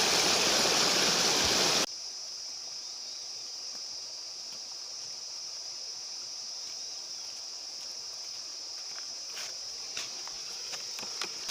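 River water flows beyond Sikhe Lake in Ziro, a loud rushing stream for the first two seconds that drops to a faint, steady hiss with light ticks and insect-like chirps.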